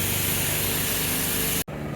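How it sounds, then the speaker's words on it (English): Jet wash spray rinsing a car with a soft top at a self-service jet wash bay, a steady loud hiss of water that cuts out abruptly for a split second near the end before resuming. "Just got to rinse this whole entire car off and making sure I'm getting all the dirt"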